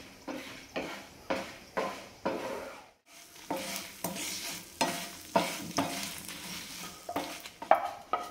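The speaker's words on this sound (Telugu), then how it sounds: "హై ఫ్లేమ్ కాకుండా లో ఫ్లేమ్లో పెట్టుకొని ఫ్రై చేసుకోవాలి" Ingredients for a Telugu shikaya leaf chutney fry in a pan over a low flame, with rhythmic scraping strokes of a spatula repeating about every half second over a soft, continuous sizzle, close up and without speech.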